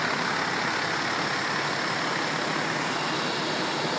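Fire engine RE4 idling at a six-alarm apartment fire, a steady broadband diesel rumble with continuous roadway noise, loud and unbroken throughout.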